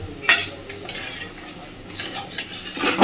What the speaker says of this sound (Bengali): আলুটাকে দিয়ে খুব ভালোভাবে সব কিছুকে মিশিয়ে দেব